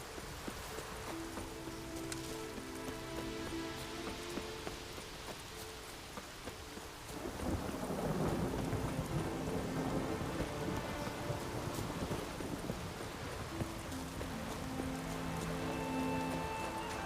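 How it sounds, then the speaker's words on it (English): Steady rain and rumbling thunder from a Witcher 3 storm play quietly for the whole stretch, swelling a little midway, with faint musical tones and no speech. "Maybe we needed a spot of rain."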